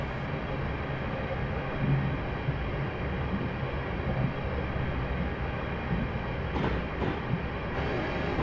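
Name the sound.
Class 350 electric train running in video game Train Simulator Classic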